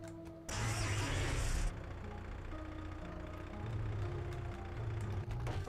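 A vehicle engine in the survival game 7 Days To Die cranks and catches with a loud burst, then settles into a steady, low idle that rises slightly, heard alone without talk.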